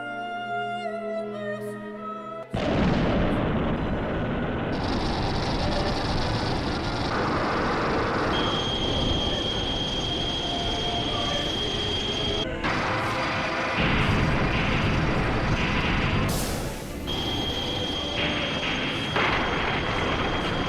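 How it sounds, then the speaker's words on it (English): A metallic, unearthly laser beam effect from Shin Godzilla erupts after a brief musical intro and runs as a dense, roaring wash with a sustained high tone and crashing bursts layered through it. "I liked the metallic and just unearthed sound of that laser beam that came out of the Shin Godzilla."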